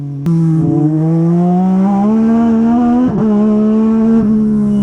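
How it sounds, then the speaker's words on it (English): A car engine in the Racing is Life video game drones high in first gear while drifting, a loud, steady harmonic whine that climbs gradually with a brief dip, heard close and alone. "Okay, so downshift, first gear, hit the gas, drift a bit."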